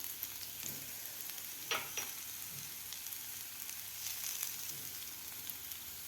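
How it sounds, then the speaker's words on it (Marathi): Potatoes and peas fry together in a pan, a faint, even sizzle broken by a few short scraping stirs. "बटाट्याला मटारबरोबर फ्राय करून घेणार आहोत"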